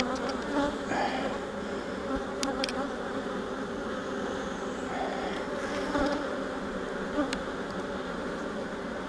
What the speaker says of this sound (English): there are so many bees in here right now.